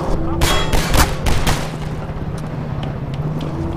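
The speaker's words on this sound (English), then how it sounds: "Shots." Gunshots in Half-Life 2, a quick run of loud cracking shots in the first half followed by fainter distant reports and steady background rumble.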